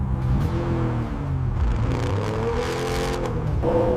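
A BMW M4 G82 with an S58 engine revs hard at full throttle, its pitch sweeping up and down through repeated surges, loud and close with a deep rumbling exhaust.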